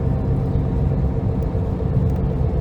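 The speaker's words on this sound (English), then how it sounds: "So it does seem to run and drive just fine, actually." Geo Prizm engine running steadily while the car is driven, a continuous low rumble with road noise, close and moderately loud throughout, no speech.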